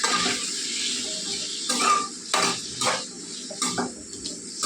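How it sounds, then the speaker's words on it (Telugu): Potato pieces being stirred with salt and turmeric in a pan, a utensil scraping and clinking against the metal in a few separate bursts between quieter stretches, close and fairly soft. "అయితే బాగా కలిపేసుకుందామండి. ఉప్పు పసుపు బాగా ముక్కలు పట్టేలాగా."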